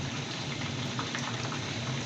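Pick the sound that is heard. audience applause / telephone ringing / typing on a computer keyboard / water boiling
water boiling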